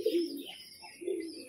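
A large male Kalshira pigeon coos up close in two low, throaty bursts separated by a brief pause, with no voices.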